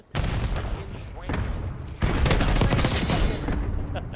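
A frag grenade blast with rapid gunfire in a shooter game set on a Nuke Town map, continuous bursts of shooting throughout and a heavier boom midway, loud and close with a voice talking over it.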